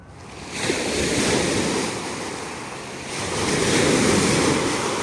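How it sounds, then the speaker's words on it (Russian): Sea waves roll steadily onto the shore on a winter Abkhazian coast, with wind rushing across the microphone throughout and the surf swelling louder toward the end. No voices. "Пришли на берег моря."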